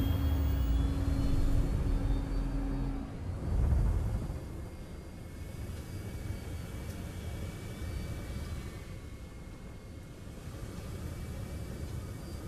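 Anvil Aerospace spaceship in the game Star Citizen lifting off and flying: a steady, loud engine rumble and airy roar, with a brief low swell near the start, then an even drone that holds throughout.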